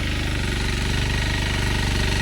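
A tractor engine runs steadily in a paddy field for rice sowing, a loud close mechanical drone with a fast regular thumping pulse and no pauses.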